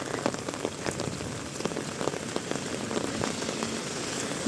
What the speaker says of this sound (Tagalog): Lakas pa din ng ulan.